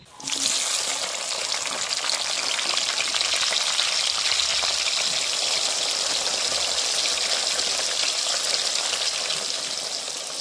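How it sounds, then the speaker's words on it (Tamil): Loud, continuous sizzling and crackling of eggplant frying in hot oil, a dense, steady hiss that holds for the whole stretch. "ஓகே, கத்தரிக்காயை பொரிப்போம் மடிவா"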